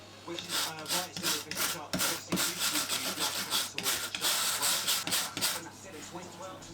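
Stiff wire brush scrubbing the blowtorch-charred end grain of a scaffold board, with close, steady rhythmic rasping strokes that repeat back and forth without pause.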